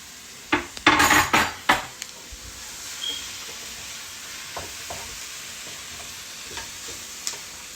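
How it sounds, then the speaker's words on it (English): Mushrooms tipped into a pan and stirred for a cheesy tuna casserole: a quick cluster of loud clattering utensil-on-pan knocks with a faint sizzle underneath, then sparse soft stirring taps trailing off. "And I'm going to also add in the mushrooms."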